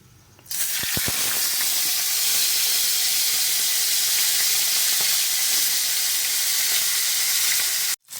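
Leftover paksiw frying in a hot pan, a loud steady sizzle with hissing steam that starts abruptly and continues evenly, with a few faint clinks early on.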